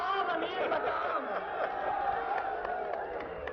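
A large rally crowd in Mardan chants slogans in unison, a dense, loud wash of many voices that holds steady throughout.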